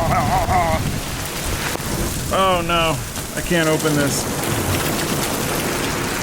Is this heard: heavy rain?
yes